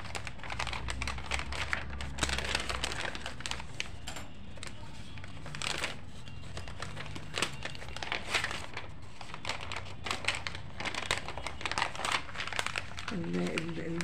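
Stiff paper sewing pattern crinkles and rustles in repeated bursts while a dress is being made, handled close up as someone talks throughout.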